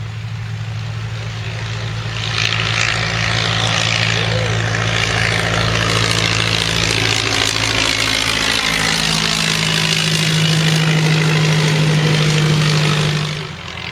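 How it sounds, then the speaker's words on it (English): A 1918 Curtiss JN-4 Jenny biplane's engine drones steadily and loudly through a takeoff roll at an airshow, a continuous low propeller hum that holds throughout and rises slightly in pitch near the end. "Coldfield's original Curtis JN4, the infamous Jackie on takeoff roll"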